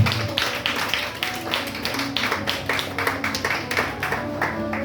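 A congregation at a church service claps in a steady rhythmic beat of even, fairly loud claps, with faint voices mixed in beneath.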